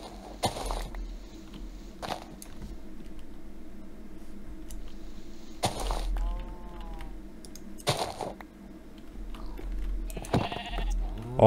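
A Minecraft sheep bleats several times amid sparse clicks of keyboard and game actions, its short wavering calls clear and fairly close in an otherwise quiet scene.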